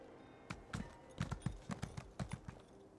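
Horse hooves in the video game The Elder Scrolls Online clip-clop in an uneven trotting rhythm, a dozen or so hollow knocks over a quiet hum, fairly close and moderately loud.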